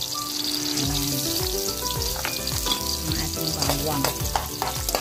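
Garlic and onions sautéing in a pan for a leftover lechon sinigang, with a continuous close sizzle broken by frequent scraping and clacking from a stirring utensil, and no talking.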